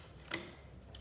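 Needles on a Brother knitting machine being pulled out, heard as two short, crisp mechanical clicks spaced about a second apart, quiet and close with near silence in between.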